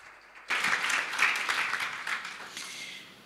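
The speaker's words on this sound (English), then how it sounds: "Please, now applause for this young person." A conference audience at a mental health event for children and youth bursts into applause for a young speaker, a dense wash of clapping that starts abruptly, swells and then slowly tapers off.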